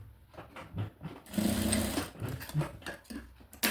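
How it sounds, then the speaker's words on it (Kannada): A sewing machine stitches fabric for a baby girl's school uniform, its steady close whirring needle rhythm running continuously with brief pauses and speed changes. "ಇಲ್ಲೊಂದು ಹೊಲಿಗೆ ಹಾಕ್ಕೊಂಬಿಡೋಣ ಫಸ್ಟಿಗೆ."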